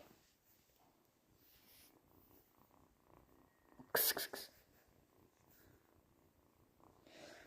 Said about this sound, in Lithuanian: grįžau į kambarį su savo katinu.